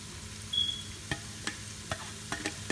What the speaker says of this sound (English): Saute the onion real good.